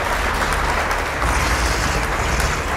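A loud, sustained round of applause rolls on continuously, with many hands clapping at once and no pauses.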